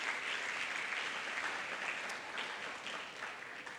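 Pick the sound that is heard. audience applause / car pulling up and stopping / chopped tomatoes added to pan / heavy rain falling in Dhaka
audience applause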